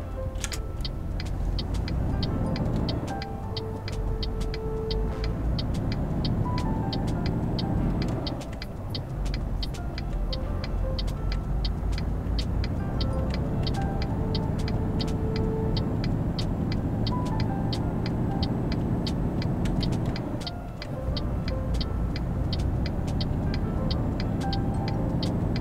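A simulated heavy truck in Euro Truck Simulator 2, hauling a 26-tonne load of gearboxes, pulls away in first gear. Its engine drones steadily and loudly while the pitch climbs and then drops back at a few points. No one speaks.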